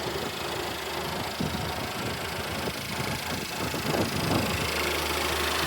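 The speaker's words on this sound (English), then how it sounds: "Let's look at the motor one more time." Car engine idling under an open hood, a steady low hum and mechanical rumble at close range, fairly quiet and unchanging throughout.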